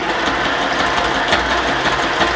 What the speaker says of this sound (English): I'm only going to sew just a couple of mil from the edge.